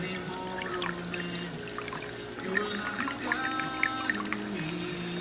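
Water gurgles and trickles from an overflow pipe as trapped air escapes in uneven bursts, a bubbling, splashing flow that grows louder and more turbulent in the second half. Close and unbroken, with no talk.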